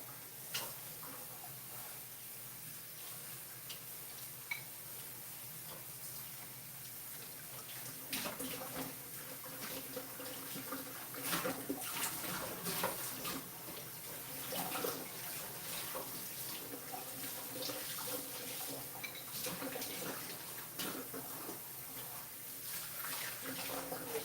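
Tap water runs steadily into a cat's water bowl at a sink as it is washed, a continuous close splashing hiss with occasional clinks and knocks.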